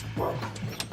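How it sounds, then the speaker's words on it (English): A big dog barks close by, a few short, deep woofs mixed with human voices talking over and around them. "It's a big dog."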